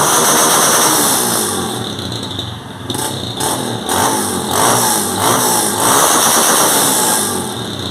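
A Honda CG Titan 160 motorcycle engine runs steadily at idle, close by and loud, with a faint uneven pulsing as the revs hold steady.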